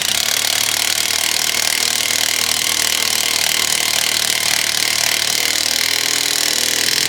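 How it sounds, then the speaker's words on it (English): Continuous buzzing whir of an impact wrench driving coilover bolts on a BMW E91's suspension, loud and steady for several seconds with no talk. "now use the impact and tighten your bolts"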